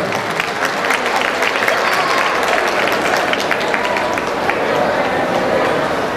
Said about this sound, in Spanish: El aplauso fuerte para esta madre que ha ganado en el día de hoy.